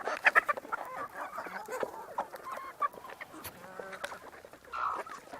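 Several chickens cluck and chatter close by on a farm at feeding time, busy short calls overlapping with a few louder squawks, continuing without pause.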